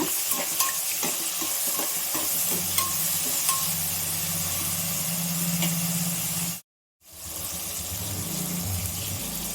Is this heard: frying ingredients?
yes